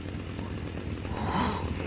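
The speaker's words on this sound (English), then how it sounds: "Wait, a chainsaw?" A revving chainsaw from the Chainsaw Man anime, a steady buzzing engine drone that grows louder and fuller toward the end.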